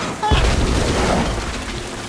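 A single deep boom of a cannon firing from a pirate ship in Tales of Monkey Island, close and loud, then a rumbling decay.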